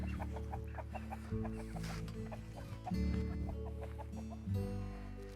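Backyard chicken pen with several hens clucking in quick, repeated bursts, fairly close and steady across the whole stretch, with no talking over them.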